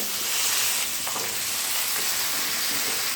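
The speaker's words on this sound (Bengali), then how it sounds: "কাঁচা লঙ্কাগুলো হালকা একটু ভেজে নিয়ে এর মধ্যে দিয়ে দিচ্ছি আগে থেকে কেটে রাখা লাউ" Chopped bottle gourd drops into hot oil with lightly fried green chilies, giving a steady, close broadband sizzle that holds evenly throughout with no talking.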